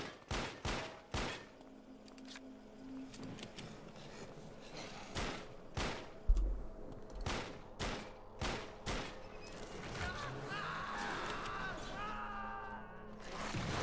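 Gunfire in the video game Alone in the Dark (2008): a run of sharp, loud shots in irregular bursts, several fired close together, with heavier impacts and a crash midway and a quieter rattling passage toward the end.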